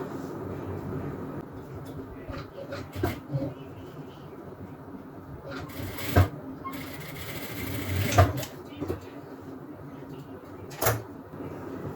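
A sewing machine stitches elastic into the waistband of a pair of shorts, the fabric folded inside. It makes a steady low whirr broken by sharper clicks and knocks from handling, with a faint voice at times.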